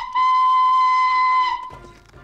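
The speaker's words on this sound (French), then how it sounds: "Il décide alors de siffler de toutes ses forces pour faire reculer l'animal." One long, loud, steady steam locomotive whistle tone holds for over a second, then cuts off abruptly into low rumbling noise.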